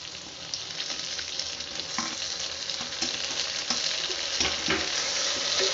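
Tomatoes frying in a pan with sautéed onions for a white butter bean kurma, a steady loud sizzle with occasional stirring scrapes, building slightly louder over the stretch with no talking.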